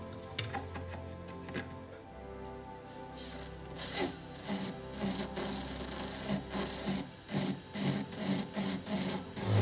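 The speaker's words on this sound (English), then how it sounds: "So now I'm going to change to the round burr again." A round burr in a rotary tool cuts a gypsy stone setting into a metal ring band, heard as close, rhythmic, gritty grinding bursts that grow more pulsed toward the end.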